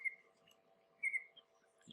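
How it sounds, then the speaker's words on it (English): Birds sing outdoors in Iowa on a spring day, giving two clear high chirping phrases about a second apart, faint and moderately distant, over a quiet low hum. "You can probably hear the birds singing."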